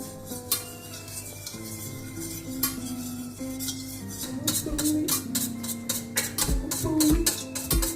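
Milk and an egg being whisked together in a bowl for scones, with steady clinking and scraping of utensil against the bowl running throughout, growing louder and busier toward the end over faint background music.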